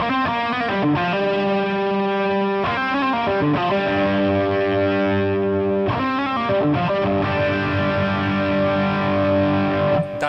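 A distorted electric guitar through a Fractal Axe-FX amp model plays a sustained, gritty lead with bent and held notes, thick amp saturation and no voices.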